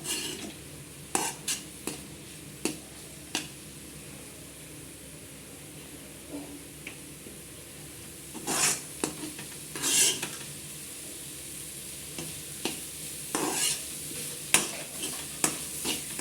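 Onions sautéing in a pan for a bean stir-fry, with a soft continuous sizzle broken by sharp clinks and scrapes of a spoon stirring against the metal, close and intermittent, with no talking.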